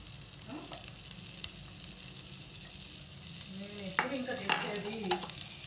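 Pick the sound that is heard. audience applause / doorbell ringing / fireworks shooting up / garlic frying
garlic frying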